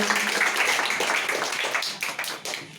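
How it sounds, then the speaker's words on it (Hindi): Children and onlookers at a village general-knowledge quiz competition near Prayagraj, Uttar Pradesh, clap for a young contestant: dense, steady crowd applause filling the whole moment, gradually thinning toward the end. "तो एक बार फिर से जोरदार ताली अनिकेत के लिए।"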